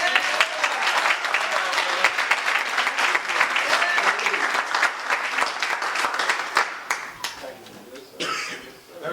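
Audience applause after a speaker is introduced at a community gathering, a steady wash of clapping with a few coughs and chuckles, fading out toward the end.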